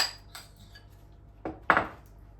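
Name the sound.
spooning and spreading pumpkin galette filling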